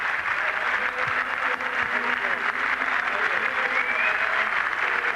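Rugby league crowd at Central Park, Wigan, clapping at full time after a benefit match, a sustained spread of applause from the stands with a commentator talking over it.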